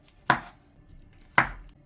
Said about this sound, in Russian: Я попробую добавить грибы. Нарезаем их очень мелкими такими пластинками